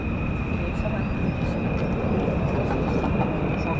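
F-15 fighter jets taxiing at an air force base produce a loud, steady engine roar and high-pitched whine that hold throughout, with no clear pauses.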